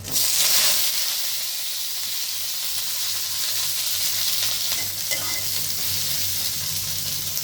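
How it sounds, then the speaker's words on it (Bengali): Garlic, onion, and dried and fresh green chillies fry in oil in a wok, giving a steady, close sizzle with occasional stirring scrapes, with no voices. "এখন রসুন, পেঁয়াজ আর মরিচ সবগুলো একসাথে ভাজে নেব"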